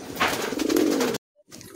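Kalchira Giribaz pigeons, a breeding pair, give a steady stream of close, full cooing that cuts off suddenly, followed by a short silence and then a few more soft coos.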